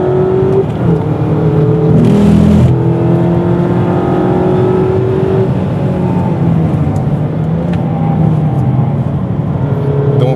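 A Mazda MX-5 lapping the fast Dijon race circuit, its engine droning steadily with shifting pitch as it accelerates and changes gear, loud and continuous with wind and road noise throughout.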